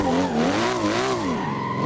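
A Nissan Silvia S15 drifting in Assetto Corsa, tires squealing in a loud, continuous wavering howl over a steady engine drone, close and alone.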